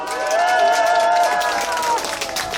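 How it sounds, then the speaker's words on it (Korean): Crowd applause at an outdoor election campaign rally for a county governor candidate, a burst of clapping and cheering mixed with amplified tones and voices, loud and sustained for a couple of seconds. "그분들을 위해서 박수 부탁드립니다"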